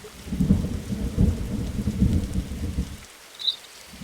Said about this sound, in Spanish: Los rayos se ponen ahí encima y te matan